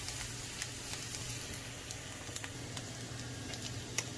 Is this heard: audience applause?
no